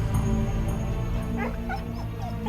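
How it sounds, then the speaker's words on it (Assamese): A dog barking and whimpering with several short yips and whiny cries over a steady low background hum; moderately close, no talking. "আজিকালি পুলিচকো কুকুৰে ভুকিবলৈ ল'লে"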